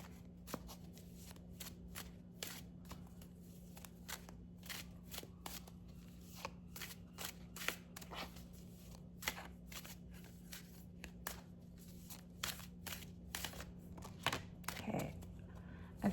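A deck of tarot cards is shuffled by hand, a series of quick, soft riffling bursts and taps repeating at close range over a steady low hum, with a slightly louder flutter near the end.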